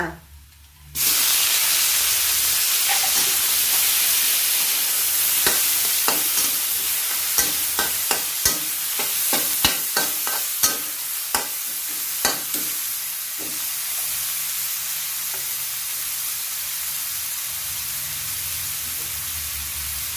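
Shrimp hit a hot pan of golden fried garlic and sizzle loudly and steadily, with a spatula scraping and clacking against the pan as the mixture is stir-fried.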